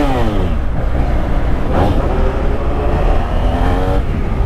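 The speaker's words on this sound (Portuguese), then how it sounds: "Olha o ronco dela." A BMW F800 motorcycle engine running close by, a loud continuous rumble that rises and falls in pitch as the throttle is blipped, with one sharp rev near the middle.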